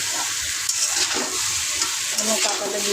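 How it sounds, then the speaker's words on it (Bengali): Potatoes, papaya and jackfruit seeds sautéed with tomato in a pan give a steady, close sizzle throughout, broken by occasional scrapes of a stirring spoon. "টমেটো দিয়ে এটা কষায় নিচ্ছি।"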